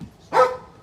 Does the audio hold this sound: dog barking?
yes